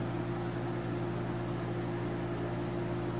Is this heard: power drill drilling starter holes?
no